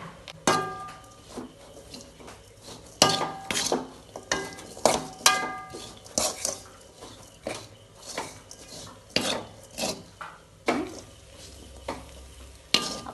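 Spice powders being sautéed in a pan for a garlic pickle, heard as repeated close scrapes and clinks of a spoon against the pan over a faint sizzle, with no talking.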